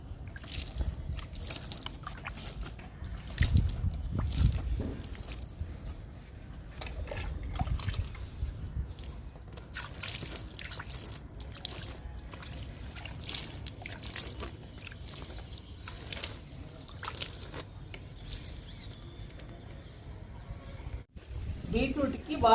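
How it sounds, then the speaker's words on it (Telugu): Water is poured over freshly planted okra seeds in a garden pot, with dripping and trickling running steadily for about twenty seconds. Occasional voices and outdoor noise sit under the splashing. "బెండిత్తనాలకి వాటర్ పోస్తున్నాను."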